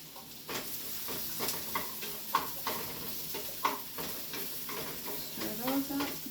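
Sautéed apples stirred in a hot pan, giving a soft steady sizzle with intermittent scraping strokes and light taps of the utensil, heard close up under quiet background noise.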